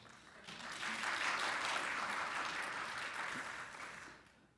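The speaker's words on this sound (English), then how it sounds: "clap, clap, clap." Audience applause fills a lecture hall at the start of an Emmy Noether mathematics lecture, a steady, dense clapping that swells quickly, holds evenly, then fades away.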